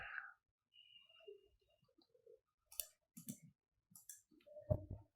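Keyboard keys pressed for an AutoCAD shortcut, a letter key then Enter: a few faint, sparse clicks and taps in a quiet room.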